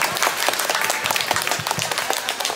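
An audience at a public-speaking talk show claps loudly as a guest speaker is welcomed, a thick wash of many hands beating fast and steady throughout, with no speech on top.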